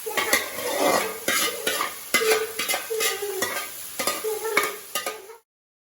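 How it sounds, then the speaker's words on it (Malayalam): Turmeric and chilli powder fry in oil for a home-style payar ularthiyathu, a loud sizzle broken by regular scraping strokes of a spatula against the pan until it cuts off abruptly. "മഞ്ഞൾപ്പൊടിയും മുളക് പൊടിയൊക്കെ എണ്ണയിലിട്ട് നന്നായിട്ട് മൂപ്പിച്ച് അതിൻ്റെ പച്ചച്ചോക മാറണം"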